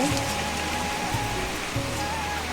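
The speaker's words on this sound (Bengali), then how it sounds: "বৃষ্টি তো শুরু হয়ে গেছে, প্রচুর বৃষ্টি, তার সাথে হালকা করে বাতাস দিচ্ছে।" Heavy rain falls steadily with light wind, a dense, even wash of noise close by, with a faint low drone and a few soft thumps beneath it.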